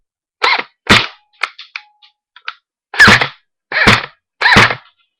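A G&G M4 airsoft rifle fires semi-automatic, giving sharp, close snapping shots in an irregular series, with a few softer mechanical clicks between them and silence otherwise.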